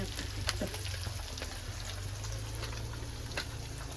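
Onions with coriander frying in a pan for an anchovy fish fry, a soft continuous sizzle with occasional light stirring taps and a low steady hum beneath.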